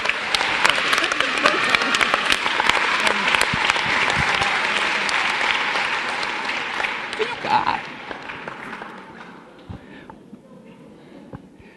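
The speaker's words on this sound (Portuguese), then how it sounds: "Vamos pedir um aplauso para o meu padrinho" An audience at a church retreat applauds warmly in a long, dense burst that slowly eases off, with a few voices mixed in toward the end.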